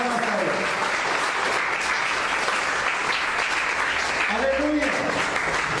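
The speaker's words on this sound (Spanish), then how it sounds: "Den una ofrenda fuerte de palmas a Él." A church congregation claps hard for several seconds in praise of Jesus. The loud applause holds steady throughout, and a voice can be heard underneath it.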